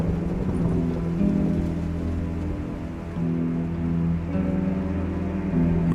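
Steady rain pours down in a Project Zomboid thunderstorm, a dense constant wash with low rumbling underneath that swells and fades in long waves, no voices present.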